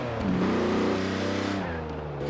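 Car engine in Forza Horizon 4 bouncing off the rev limiter and then shifting up, a loud close stuttering buzz whose pitch holds and wavers before dropping slightly.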